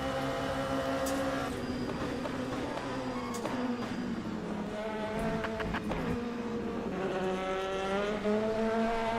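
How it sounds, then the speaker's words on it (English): LMP2 prototype race car engines in the sim racing game Le Mans Ultimate, a steady high-pitched engine note with rising and falling revs as cars run together, with brief tire squeals and clicks across the continuous roar. "The other cars do sound awesome when you're driving behind them in the LMP2s on LMU."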